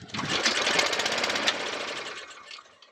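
A Briggs and Stratton 450E lawnmower engine runs close by in a rapid rattling chatter, loud and steady before easing off toward the end, with no talking.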